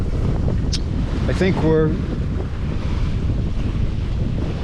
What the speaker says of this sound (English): We've been in 16, 18 knots of wind, moving ahead of it.